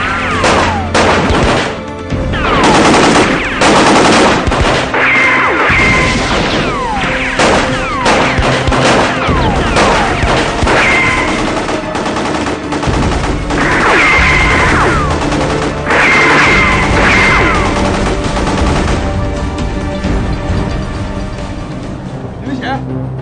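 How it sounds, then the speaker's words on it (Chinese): Soldiers fire rifles into the air near a bridge: repeated loud, close gunshot bursts and volleys crack irregularly, with shouting voices between the shots. "带着弟兄们朝天开枪"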